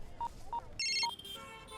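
A telephone in a Hindi-dubbed romantic comedy film scene gives a few short electronic beeps, then breaks into a brighter, sustained ringing tone, heard fairly clearly with no talking.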